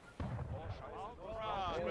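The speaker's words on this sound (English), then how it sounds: "Nice arty shot, intercepting the GC there" An artillery cannon fires in the Civil War game War of Rights on the Burnside's Bridge map, a single muffled boom quickly covered by a voice talking.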